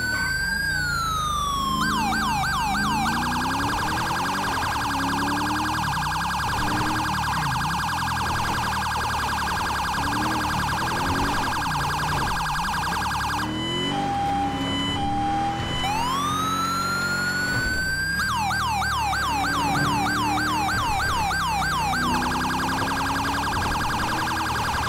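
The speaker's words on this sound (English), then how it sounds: "We're still using the, same siren. The, code 3 Mastercom B." Police car siren in code 3 Mastercom B mode in GTA V, cycling loudly and continuously through wailing and rapid yelping tones, with a brief switch in pattern midway and a vehicle engine underneath.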